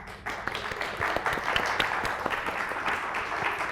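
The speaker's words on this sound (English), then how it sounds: "Let's give her a round of applause" Audience applause at a science show, dense steady clapping from many hands filling the space at moderate loudness, continuing evenly with no talk over it.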